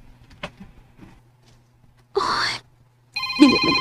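A phone rings for an incoming call in a drama scene: two short bursts of bright electronic ringing, close by, after a quiet stretch with a soft low hum.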